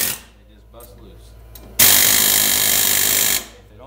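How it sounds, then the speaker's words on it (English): On a 1995 Chevy Suburban, an air hammer bursts into a loud, continuous rapid hammering for about a second and a half, working a drilled-out bolt loose, after quieter shop sounds and a few brief taps. "you just hit it with the air hammer"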